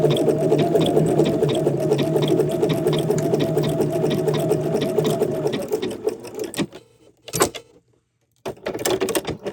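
A sewing machine runs a triple straight stitch along a fabric edge for a fanny bag, a loud steady mechanical whir with fast rhythmic needle pulses for about seven seconds, then stopping into brief clicks and handling sounds.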